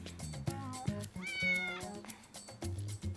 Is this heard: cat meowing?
yes